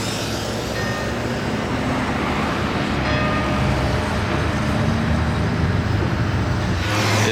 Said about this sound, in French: Aston V12 et GT3